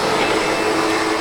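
A SEBO Automatic X7 Boost ePower upright vacuum cleaner runs steadily and loudly at close range, a constant broadband whirring drone with no breaks.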